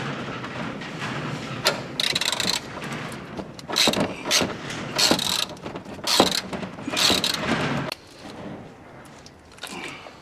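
A ratchet wrench clicks in short bursts while tightening a bolt on a Mitsubishi Evo lower control arm bushing, with metallic taps and shuffling between strokes, close and fairly quiet.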